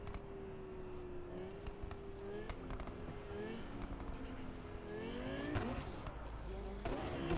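In Cyberpunk 2077, a loud car engine holds a rough, steady drone with gear-shift pitch changes and scattered clunks and knocks, rising near the end.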